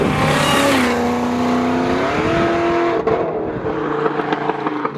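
A supercharged 800 hp Cadillac CTS-V engine revs hard, its loud, steady mechanical drone climbing in pitch and holding near the listener with no talking.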